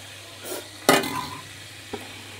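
Grated tomato and capsicum drop into a hot pan of oil with chilli paste, giving a sharp splashy sizzle burst near one second that tails off, then a brief clink of a utensil on the pan.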